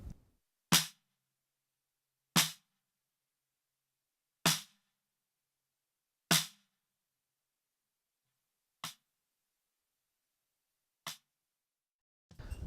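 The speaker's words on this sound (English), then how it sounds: "the snare bottom sounds like this" Six sharp snare drum hits from the bottom mic, evenly spaced and isolated, crisp and bright with short decays, the last two a little softer.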